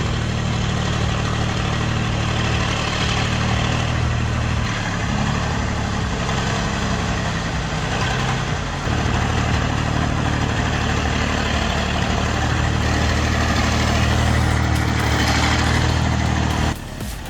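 Engine of an old former fuel truck running in deep mud, a loud, steady low idle rumble lasting throughout, close by and without talk, cutting off abruptly at the end.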